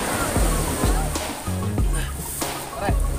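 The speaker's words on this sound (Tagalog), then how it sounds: "Abot ng alon." Sea waves roll and wash ashore at a beach, with repeated surges of surf and splashing breaking every second or so, loud and close, while people talk over the water.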